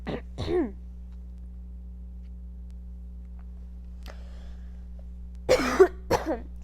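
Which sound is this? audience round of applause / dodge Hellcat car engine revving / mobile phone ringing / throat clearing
throat clearing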